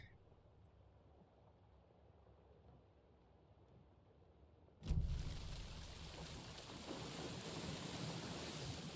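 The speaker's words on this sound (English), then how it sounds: "I don't like how loud the rain is" Heavy rain in the video game Alan Wake II, starting as a faint background hiss and abruptly swelling into a loud, dense, continuous downpour midway through.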